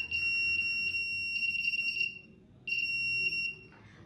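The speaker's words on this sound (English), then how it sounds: "it will make a buzzer alert" A shrill electronic buzzer from a shoe-mounted obstacle sensor beeps in rapid, uneven pulses, pauses briefly, then sounds again, loud and close.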